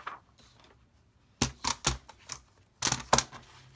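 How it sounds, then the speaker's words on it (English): Scissors snip out paper decorations for a monthly journal setup, with two close bursts of crisp, rapid cutting clicks separated by a quiet pause. "I think I'm going to cut these out."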